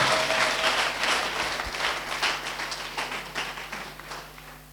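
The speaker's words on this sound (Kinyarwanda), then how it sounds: "Komera Yesu amashyi menshi cyane" A church congregation applauds, a dense spread of many hands clapping at once that slowly thins and fades toward the end before a sudden loud bump, with no talking.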